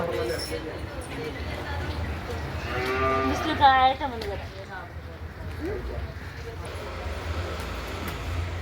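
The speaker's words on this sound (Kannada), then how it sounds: "ನಾವು ಗೋಶಾಲೆಗೆ ಬಂದಿದ್ದೀವಿ ನೋಡಿ. ಎಲ್ಲ ಥರ ಹಸುಗಳಿದೆ" Cattle of several kinds in a cowshed, with one clear drawn-out moo rising midway through a steady background murmur while people talk nearby.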